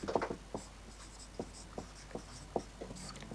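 Chalk or pen writing on a board during a Class 10 maths lesson on real numbers, heard as faint, scattered scratchy taps and strokes at an uneven pace against quiet room tone, with no talking.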